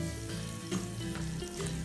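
Burger patties sizzle in hot oil in a pan, a steady crackling fry with sharp pops and spatters, close and continuous.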